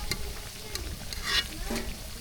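Milk-soaked pitha fries lightly in a pan in a village kitchen, giving a soft, steady sizzle with a few scraping stir sounds and clinks of the utensil close by, with no talking.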